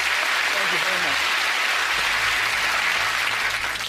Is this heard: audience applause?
yes